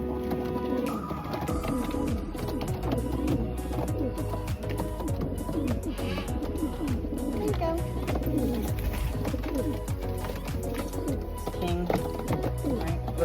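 Pigeons coo in low, repeated burbling calls at an animal sanctuary, continuous and close, with other soft bird noises and movement around them.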